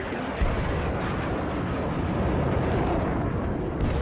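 A commander's airstrike detonates in Rising Storm 2: Vietnam, producing a loud, sustained rumbling roar of bomb explosions that fills the whole stretch without a break.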